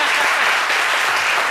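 Audience applause in a French TV studio during a book segment, a short steady burst of moderate clapping that fills the whole moment with no speech over it.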